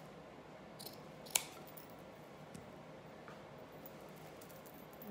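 Scissors snipping decorative craft pieces at an angle for a blue-and-white cottage desktop accent, heard as a few faint, sparse clicks and snips over a quiet room hiss.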